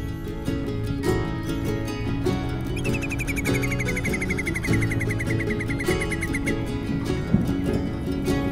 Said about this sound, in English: we were surprised by the variety of birds and the sounds we heard on the way.